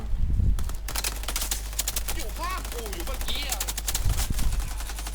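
Rapid bursts of gunfire ring out around a building during a hunt in forest hills, with bird-like chirps and voices in the background.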